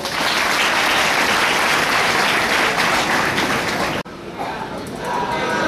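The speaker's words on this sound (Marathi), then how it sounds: "आपण जोरदार टाळ्या वाजवूया" An audience at a sugar factory gathering in Ashoknagar bursts into loud, dense applause that cuts off abruptly, after which a voice speaks over a quieter room.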